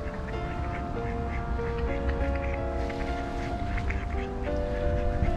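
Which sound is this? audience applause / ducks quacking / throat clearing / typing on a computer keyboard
ducks quacking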